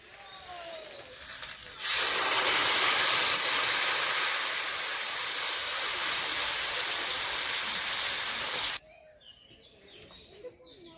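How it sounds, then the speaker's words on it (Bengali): Water pours into a pan of spiced goat meat with potatoes, a steady loud hiss and splash lasting about seven seconds before cutting off, with quieter kitchen sounds on either side. "এখন আমি পরিমাণ মতো জল দিয়ে দিচ্ছি।"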